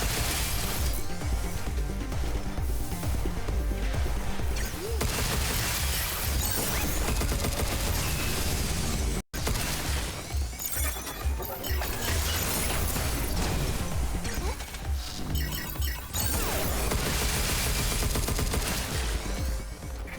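Automatic weapon fire in the video game Pragmata, sustained heavy gunfire that is loud and dense for the full stretch, broken only by a brief gap near the middle.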